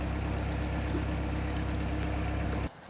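A steady low engine drone of a motorboat, loud and constant, cutting off abruptly near the end.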